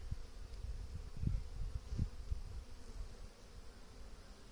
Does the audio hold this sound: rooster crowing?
no